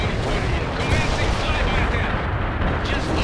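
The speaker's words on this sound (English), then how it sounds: "Artillery strike is inbound" Rumbling artillery barrage from the World in Conflict strategy game, a dense, continuous wash of booms and gunfire that stays loud and steady throughout, with a voice faintly mixed in.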